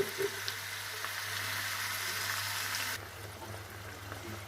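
Sea bream fries in a pan with a steady, moderate sizzle that drops abruptly to a quieter, muffled crackle partway through, as if a lid has just gone on.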